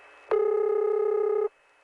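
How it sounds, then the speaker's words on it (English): Call-switching noise from a GTE Automatic Electric No. 1 EAX electronic telephone switch, heard on a long-distance call from New York City to the Fulton, New York area: one steady, buzzy harmonic tone lasting about a second, starting abruptly after a click and stopping cleanly. "that is a characteristic sound of the number one EAX, the first widely produced electronic switch by GTE Automatic Electric"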